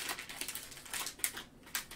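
Foil trading card packs of 2020 Panini Mosaic NFL football cards ripped open one after another, a quick run of crinkly tearing and crackling bursts, close up and fairly quiet.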